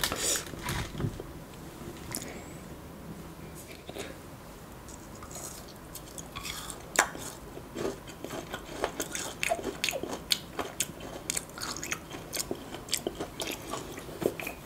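Close, crisp bites and crunchy chewing of a Chinese New Year dessert come in irregular bursts with small squishy mouth sounds between them, recorded quietly with no talking.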